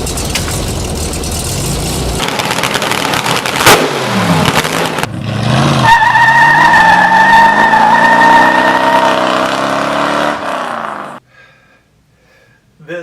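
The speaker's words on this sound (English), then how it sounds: "It's on the trailer. I'm on a super bumpy road right now" A vehicle pulling a trailer carrying a vintage industrial bandsaw over a super bumpy road, engine drone and rattling jolts steady and close before the noise cuts off near the end.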